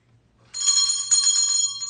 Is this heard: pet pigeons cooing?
no